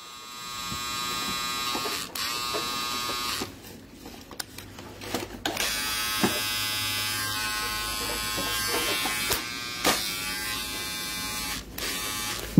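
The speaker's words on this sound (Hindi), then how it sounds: "उसके बाद आ गया जी मेरे पास ये वाला ट्रिमर।" An electric hair trimmer runs with a steady, close, high-pitched buzz for several seconds, briefly stopping and restarting with a few clicks and handling noises.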